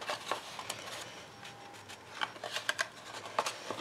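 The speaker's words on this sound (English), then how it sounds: "I'm going to trim one that way and then one the opposite way" Ribbon scissors trim a length of ribbon for a snowflake pillow box craft, producing a few faint, crisp snips scattered across a quiet room.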